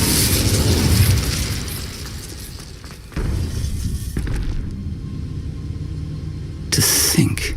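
An Incendio fire spell cast in the video game Hogwarts Legacy: roaring, rumbling bursts of flame with sudden loud onsets, one partway through and another near the end, over steady game ambience.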